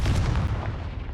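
A Confringo fire spell explodes in Hogwarts Legacy, a short, heavy, low boom with a rumbling burst of energy that fills the brief moment, close and loud with no talking.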